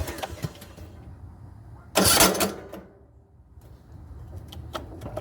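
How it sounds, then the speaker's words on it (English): The faulty starter on a Bolens riding mower, its Bendix failing to engage, gives a short loud grinding whir that cuts off after about half a second, set between quieter mechanical clatter and low rumbling. "that's a faulty starter. The Bendix keeps trying to kick the gear up and down."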